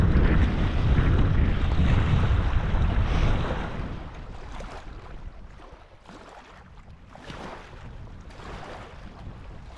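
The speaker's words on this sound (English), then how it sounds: "the waves are coming right in here" Surf rushes and crashes continuously, loud and close at first, then eases into softer wash with gusty wind buffeting the microphone.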